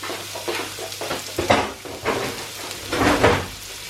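Leeks sizzle loudly in a hot pan, with bursts of crackling as they are stirred and scraped around, close by.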